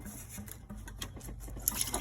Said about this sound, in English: Some of the coolant's coming out.